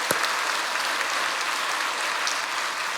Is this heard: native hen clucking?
no